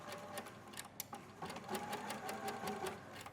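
A free-arm sewing machine with a blind hem foot stitches a blind hem on a coat sleeve cuff, giving a fast, steady mechanical whirring rhythm at close range with no talking.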